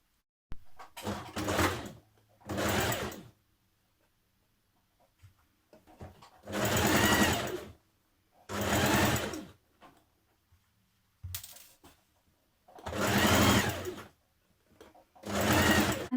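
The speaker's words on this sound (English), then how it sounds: "Pin it the whole way round and stitch in place." A sewing machine stitches the underarm seam of a Simplicity 8602 top in several separate bursts of whirring, each a second or two long, with quiet pauses between them. The machine is close and nobody speaks.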